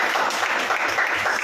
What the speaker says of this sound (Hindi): बजाओ ताली यीशु के नाम में।